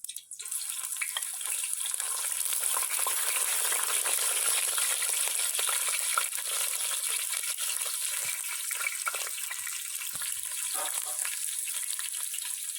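Chopped garlic, ginger and green chilli fry in a pan for an Easter chicken stew, making a steady, close, loud sizzling hiss with faint stirring scrapes throughout.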